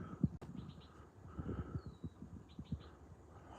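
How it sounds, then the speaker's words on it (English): A warbler sings in a serpentine grassland park: two faint, brief bursts of high trilling notes over quiet outdoor background hum, distant and soft. "Again, it sounds like a warbler."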